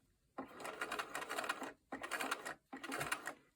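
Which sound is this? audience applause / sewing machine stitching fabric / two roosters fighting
sewing machine stitching fabric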